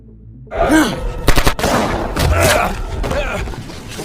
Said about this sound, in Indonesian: Jack dan Johnny beradu tembakan dengan Maya dan Frank